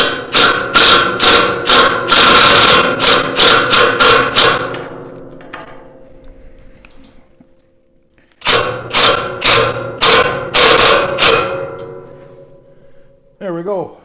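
Metal screws driven into thick steel on a trailer frame under construction make two loud, close bursts of rapid ratcheting clicks, each several seconds long and separated by a quieter pause.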